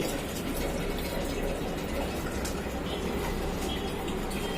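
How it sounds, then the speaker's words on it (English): Water gushes forcefully from the cock valve hole of a toilet flush tank, a steady loud rushing that runs unbroken throughout with no pauses. "See, the water is coming with forcefully from the cock valve hole."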